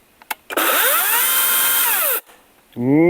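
A Vitals Professional AKZ 3606 cordless battery chainsaw on its first start, revving from silence to a loud, steady high-pitched whine with a rising spin-up and falling spin-down, followed by a brief higher second burst, close by.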